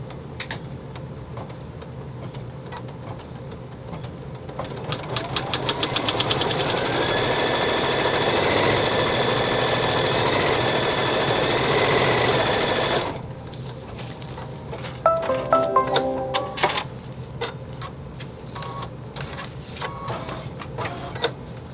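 A computerized embroidery machine stitches a placement outline on a children's T-shirt, a steady, fast mechanical rattle with a rising whine that runs loud for several seconds, then stops, leaving quieter clicks and taps.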